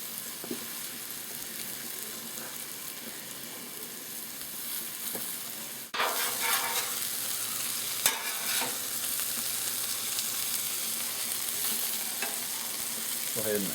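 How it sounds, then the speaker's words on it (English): Burger buns toast on a Blackstone griddle with a steady, close sizzle that runs the whole time and gets brighter and louder partway through, joined by a few light scrapes and clicks and no talking. "Alright, toast up our buns."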